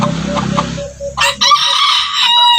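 A labuyo junglefowl rooster crows loudly and close, a sharp high crow following a brief run of lower clucking.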